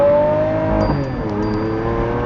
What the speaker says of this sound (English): Listen to it, V12 engine.